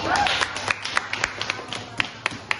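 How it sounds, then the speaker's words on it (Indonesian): Classroom applause for a student named Dinda, a small group of children clapping in an uneven, loosening rhythm of distinct claps that thins out toward the end, with a little talk at the start. "Tepuk tangan untuk temannya Dinda yang sudah memberikan kesimpulan di pembelajaran hari ini."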